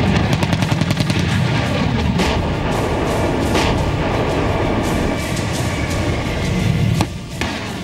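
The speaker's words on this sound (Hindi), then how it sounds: "कान के पर्दे फाड़ देने वाले बम धमाकों की आवाज" Booming artillery and bomb blasts from a military exercise, a dense, loud rumble of repeated impacts with a sharp burst near the end.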